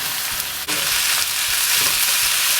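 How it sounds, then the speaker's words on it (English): A pound of lean ground beef frying in a pan with oil and chopped garlic, a loud, steady sizzle close up with a brief scrape of stirring partway through. "Then I'm gonna add a pound of ground beef."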